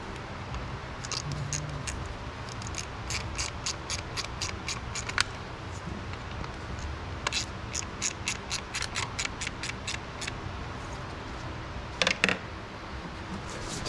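Ratchet clicking in rapid bursts while lightly tightening small screws on an Audi 3.0 TFSI engine during spark plug replacement, several separate runs of ticks over a steady low background.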